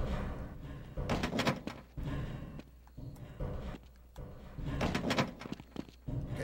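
A locked door in the PS2 port of Half-Life rattles and thunks as it is tried, several muffled knocks and clunks repeating in uneven bursts at low volume.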